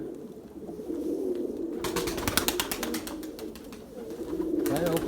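Many pigeons coo in a steady low murmur close by, with a burst of wing flapping as a flock takes off midway and more flapping near the end.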